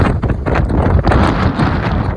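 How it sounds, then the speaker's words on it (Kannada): A strong wind on a green hilltop buffets the microphone, making a loud, continuous roar that rises and falls without a break. "ಫುಲ್ಲು ಗಾಳಿ ಇದೆ ಕಾರಣ ತೋರ್ಸೋಕ್ಕಾಗ್ತಿಲ್ಲ"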